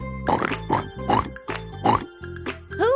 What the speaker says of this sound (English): It's Piggy the pig.